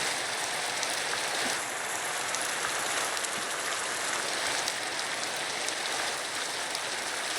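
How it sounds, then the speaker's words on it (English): Hail from a Minecraft atmospheric weather datapack's hailstorm falls as a steady, dense patter of countless small impacts, like heavy rain on a surface, continuous and even throughout with no voices. "You notice it's dropping stuff. That's hail."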